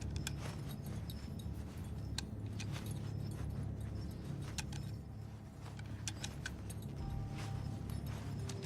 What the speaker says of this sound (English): The sound of you shuffling around in your backpack for ammo